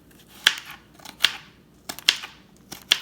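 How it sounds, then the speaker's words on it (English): Knife cutting snake gourd into small pieces on a board, four distinct sharp chops spaced under a second apart, close and fairly loud over a quiet background. "So basically you have to cut everything into small pieces here."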